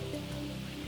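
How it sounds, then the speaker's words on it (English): Heavy rain in the video game Great God Grove, a dense continuous hiss of falling water with a low steady rumble underneath, loud and unbroken for under a second. "It's raining harder"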